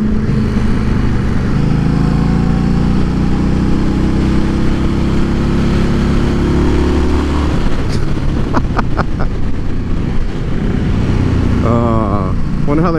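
A 2018 Indian Scout motorcycle engine runs with a steady low rumble throughout, quiet on its stock exhaust, while someone talks over it.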